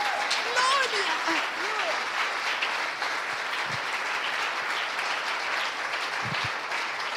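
An audience at a church gathering applauds continuously in a dense, steady wash of clapping, fairly loud throughout, with a voice briefly audible early on.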